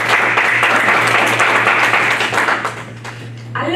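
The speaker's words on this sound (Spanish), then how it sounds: "Dele un aplauso al Señor." A church congregation applauding during a Christmas-season sermon, loud and steady clapping from many people that eases off toward the end.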